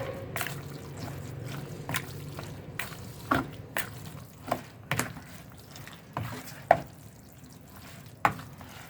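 Spoon stirring a bamboo shoot and chicken mixture in a bowl, soft wet squelching with sharp clinks and taps at irregular intervals, close up and with no speech.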